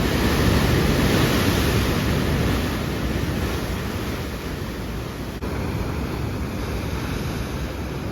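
Atlantic waves wash ashore at Porto, Portugal, as a steady, dense roar of surf with wind noise, slightly louder at first and then constant, with no voices.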